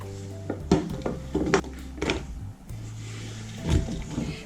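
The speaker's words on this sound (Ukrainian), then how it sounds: "Перекладаємо огірки до великої миски. Замість миски в мене каструля." Cucumbers clatter and thump into a large metal pot in several quick knocks and scrapes while making lightly salted pickles, close and fairly loud, with a low hum between them.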